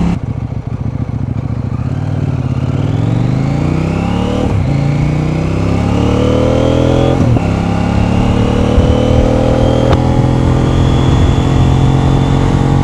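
A CFMOTO Ibex 800T motorcycle being ridden, its engine droning steadily and rising through the gears with several brief dips at shifts, loud and close throughout with no talk.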